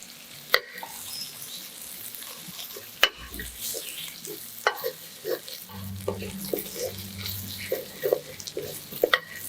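Meatballs and cabbage fry in a pan for lunch-box fried rice, a soft steady sizzle broken by scattered clicks and taps of a utensil, with a few sharper knocks and a low rumble midway.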